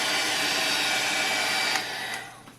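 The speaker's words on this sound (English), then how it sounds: "you can grab your heat gun and you can do a light little pass to speed up the drying process" A heat gun blowing over freshly applied marker ink to dry it, a steady loud whooshing airflow that fades and cuts off near the end.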